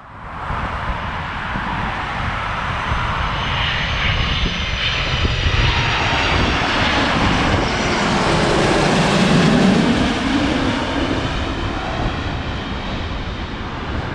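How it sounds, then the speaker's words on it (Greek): A Boeing 787 airliner at Heathrow roars steadily and loudly, its jet engine noise swelling slightly toward the middle as it passes, a broad continuous rumble with no talking. "Αυτό πρόλαβα το είδε, ήταν Boeing 787."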